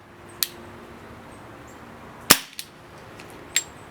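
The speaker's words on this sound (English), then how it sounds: "We're going to shoot in single action." An Umarex Beretta M92 FS .177 CO2 pellet pistol fired in single action, with one sharp, loud crack standing out among a few fainter clicks in a quiet room.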